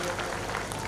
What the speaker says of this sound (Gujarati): તો જોરદાર તાળીઓ જીલ માટે